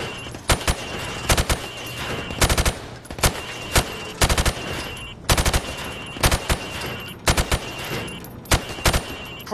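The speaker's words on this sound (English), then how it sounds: "I want you to shoot the targets through the wood" Gunfire in Call of Duty Modern Warfare Remastered as targets are shot: loud bursts of rapid automatic shots in repeated clusters, each volley sharp and close, with brief pauses between them.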